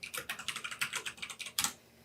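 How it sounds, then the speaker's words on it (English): A loud computer keyboard clatters with quick, close key presses in an even rhythm for about two seconds, ending with one heavier keystroke. "you can hear my loud keyboard"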